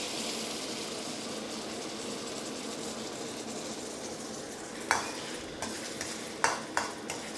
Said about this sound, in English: Once it's smoking hot, then you want to pour that sauce straight in.